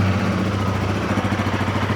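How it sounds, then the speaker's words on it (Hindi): A Royal Enfield Guerrilla 450 roadster idles from cold with its seat closed, a steady low exhaust burble with a regular pulsing rhythm, close and fairly loud, with no revving and no voices. "बाकी मैं आपको एग्जॉस्ट नोट सुना देता हूँ सीट बंद करके।"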